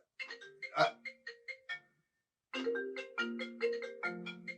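A telephone ringtone plays as a melodic electronic tune, loud and near, in two bursts separated by a short silence, with no talking over it.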